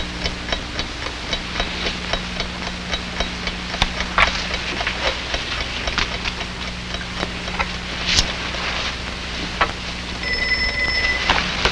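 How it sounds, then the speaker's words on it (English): A telephone bell rings in a 1950s teenage advice film, a faint repeated ringing heard near the end over a steady rumbling, ticking background. "Hey, Dopey, I'm expecting a phone call."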